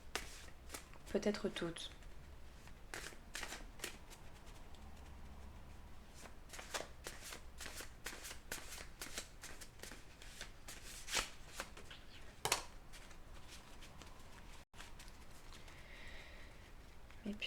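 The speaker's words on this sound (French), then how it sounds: "je vais recouvrir certaines cartes." Oracle cards being shuffled and handled in a card-reading session, giving repeated crisp riffling and slapping bursts, close and fairly loud, with someone speaking briefly over them.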